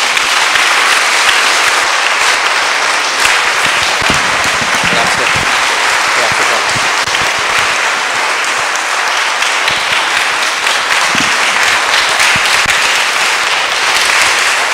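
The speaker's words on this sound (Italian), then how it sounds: "Un applauso per lei." An audience at a conference in Savigliano applauds a magistrate with loud, sustained, dense clapping that fills the room without a break for about fifteen seconds.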